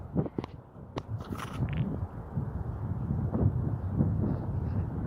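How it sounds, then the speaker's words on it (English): Gusty outdoor wind buffets the microphone in a steady low rumble with a few sharper bumps near the start, continuing without speech. "It's windy."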